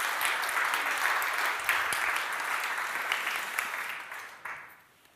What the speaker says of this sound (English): So now you can give them a round of applause and welcome them to the stage.